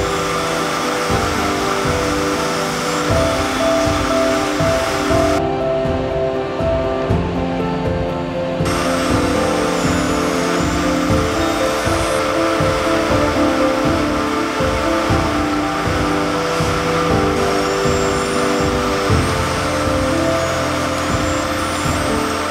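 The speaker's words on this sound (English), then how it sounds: "Inside the drafting chamber, our Simplex machines carefully adjust the thickness of the sliver while adding a gentle twist" Simplex roving machines drafting and twisting fiber sliver in an industrial yarn mill, a steady, loud mechanical drone with layered humming tones and rattling that runs throughout without pause.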